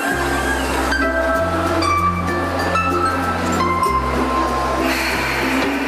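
A stainless-steel KRL Rheostatik ED101 electric commuter train hums steadily with a low, droning motor tone and faint rail clatter, heard up close with no talking.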